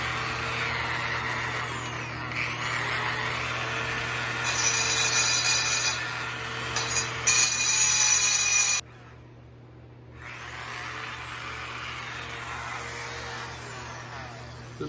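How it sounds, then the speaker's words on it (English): A Dremel Multi-Pro single-speed rotary tool cuts aluminum with a steady high whine, rising into harsher grinding bursts before cutting out briefly, then resuming. "This little Dremel multi-pro single speed, it says."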